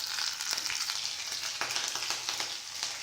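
Green and red chillies with curry leaves fry in hot oil, crackling and sizzling steadily up close, with scattered soft clicks of stirring and no voices.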